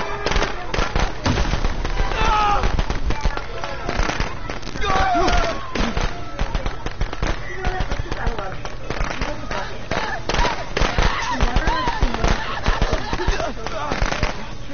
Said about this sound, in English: I'll throw these firecrackers at the door if you don't move